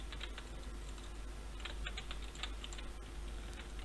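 Rapid keystrokes on a computer keyboard while entering C# code that uses Excel as a database, a steady run of light clicks at close range with no talking.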